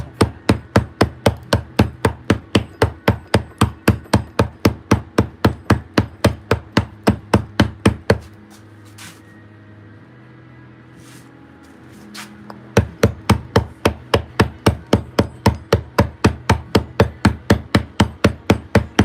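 Hammer striking a chisel while carving stone, a steady rapid series of loud, close metallic blows that stops for a few seconds, then resumes at the same even rhythm.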